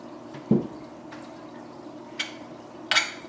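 Liquid seasoning splashed into a pot of homemade Hawaiian chili, heard as a few short, wet drips and splats spaced across quiet kitchen room tone.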